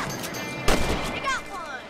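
A single sharp rifle shot in the Red Dead Redemption video game, fired while hunting rabbits, rings out loud and close with a short echoing tail, followed by faint game ambience.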